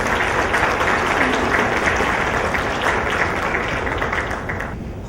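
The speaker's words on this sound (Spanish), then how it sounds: "Le damos un fuerte aplauso al doctor para recibirle" Sustained audience applause in a hall at a pediatrics session welcoming a doctor from Texas Children's Hospital in Houston, dense and even, tapering slightly at the end.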